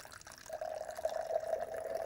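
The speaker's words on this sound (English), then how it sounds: "we'll just pour the water and just observe what the water is doing as it falls" Water pours from above into a glass, a steady, close trickling stream with a rising gurgling tone as the glass fills, heard alone without talk.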